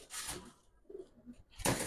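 Soft, low cooing from Giribaz and racer pigeons nearby, a few brief throaty coos between short bursts of rustling noise.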